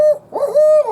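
Hunter's voiced owl hoot used to locate turkeys, a close, loud, tonal hooting call of a few rising and falling notes with a brief gap, alone without other sounds, imitated by a person.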